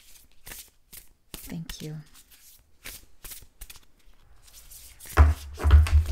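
Oracle cards are shuffled in quick riffling bursts, close and crisp, with a brief spoken thank-you between bursts and a few louder bumps near the end.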